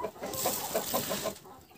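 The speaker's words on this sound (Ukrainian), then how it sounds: "Ти, курка, також дивишся." A chicken clucks in a short run of soft, quick notes at close range during feeding time among backyard poultry.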